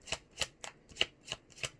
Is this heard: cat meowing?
no